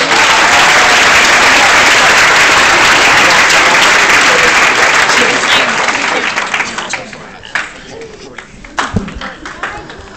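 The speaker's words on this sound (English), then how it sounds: "Let's give them another round of applause." Loud, dense applause from a large crowd at a hypnotist show fills the room, then tapers off into scattered claps and some talking.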